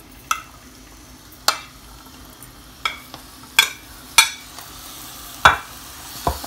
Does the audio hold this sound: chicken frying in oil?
yes